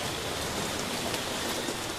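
Steady, heavy rain falls in the Congo rainforest, a dense, even hiss of drops hitting leaves and surfaces. It is close and continuous with no voices.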